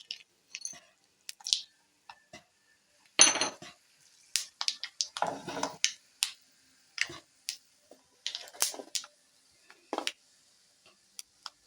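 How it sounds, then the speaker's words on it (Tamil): Mustard seeds and urad dal crackle in hot oil for an elephant yam kola dish. Sparse, sharp pops and spits come at irregular moments, close but fairly quiet, with near silence between bursts. "கடுகு உளுந்தம் பருப்பு போட்டுக்கிறோம்."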